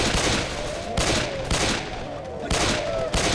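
Gunfire from the Left 4 Dead 2 Church map on Expert, a dense fusillade of rapid shots in bursts with brief pauses, loud and close, with no talk.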